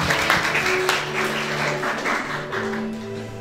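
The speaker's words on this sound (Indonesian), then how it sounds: "Tidak ada salahnya kita tepuk tangan, saudara." Wedding guests applauding during a ring ceremony, a steady wash of clapping at moderate loudness that holds throughout, with faint tonal hum and murmur underneath.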